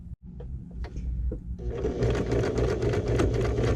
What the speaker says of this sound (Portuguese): Retrocesso no início, retrocesso no final.